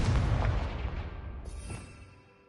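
A Confringo spell blast in Hogwarts Legacy: one heavy booming explosion, loud and close, rumbling at first and then fading away into a quiet tail.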